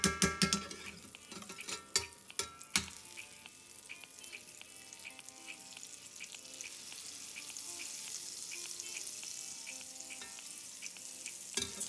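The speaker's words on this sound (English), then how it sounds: "This pan seems pretty hot. It's really sizzling," Butter and vegetable oil sizzle in a hot pan for eggs over medium, a steady crackling hiss that follows a handful of sharp clanks and taps, fairly close and faint with no talking.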